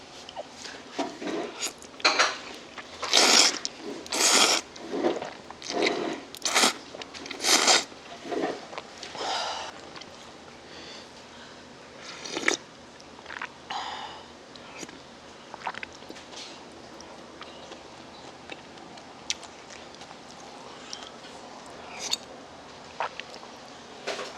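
Close crunching, smacking and slurping bursts come from someone eating a Korean-Chinese meal of seafood jjamppong with pollock roe, chili shrimp, sweet and sour pork and seafood rice crust soup, dense early and then sparser and quieter, with no talking.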